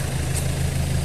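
A van engine idles through its exhaust muffler in a steady, close, low rumble that holds even throughout the moment.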